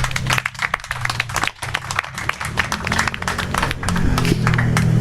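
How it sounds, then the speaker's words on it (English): An audience at a Bali health-tourism talk event gives a round of hearty applause, dense close clapping that holds steady for about five seconds. "round of applause for that intro"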